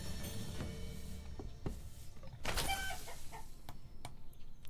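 Chickens cluck and squawk in the farming-village game Manor Lords, with several short bird calls coming at irregular moments over a steady, moderately loud ambient background.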